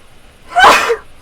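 A single sharp sneeze from a person, close and loud, bursting out alone against near silence.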